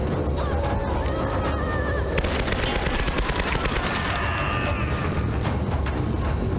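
Gunfire rings out in the action-adventure game Tomb Raider (2013) during a final boss fight, with dense, loud bursts of shots and clattering impacts layered over a busy, chaotic background that never quiets.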